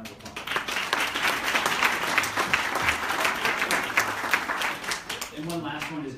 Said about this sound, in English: So we could give them a round of applause.